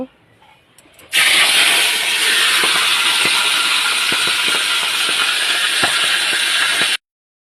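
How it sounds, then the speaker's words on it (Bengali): Fish heads fry one at a time in hot oil in a wok, a loud, steady crackling sizzle that bursts in suddenly and runs unbroken for several seconds, dotted with sharp pops, before cutting off. "এবার মাছের মাথাগুলো একটা একটা করে ভেজে নেব।"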